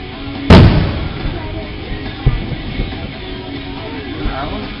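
A firework bursts with one loud, sharp bang near the start. Fainter pops and distant thumps follow over a low background rumble.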